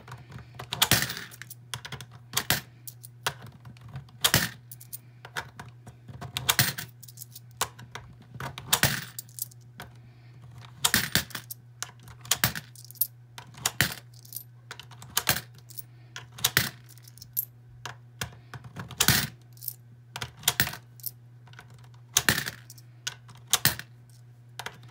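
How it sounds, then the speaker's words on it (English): Loose change clinks and clatters into paper cash envelopes in a long run of sharp metallic taps and jingles, close and fairly loud, over a steady low hum with no talking. "I add all this change in."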